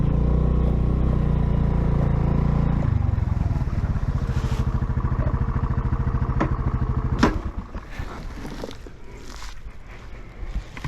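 A 2023 Honda Navi motorcycle runs close by, its engine droning steadily before easing down to a softer, pulsing putter, with a few knocks near the end and no talking.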